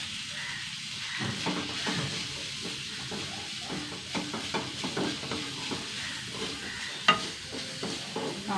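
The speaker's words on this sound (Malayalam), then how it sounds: "നന്നായി വറുത്തെടുക്കട്ടെ കേട്ടോ" Curry leaves, with coconut pieces, frying in oil in a pan, giving a steady, moderate sizzle with occasional stirring scrapes and a sharp tap near the end.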